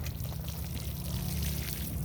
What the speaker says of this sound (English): I am going to give my rose a little bit of my fertilizer water.